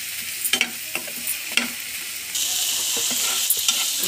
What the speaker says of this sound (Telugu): అల్లం వెల్లుల్లిపాయలు వేసుకోవాలి పుదీనా ఆకులు వేసుకోవాలండి ఇదంతా కొంచెం పచ్చివాసన అయ్యే వరకు రోస్ట్ చేసుకోవాలి ఇట్లా డ్రై రోస్ట్